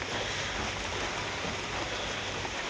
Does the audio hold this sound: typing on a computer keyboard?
no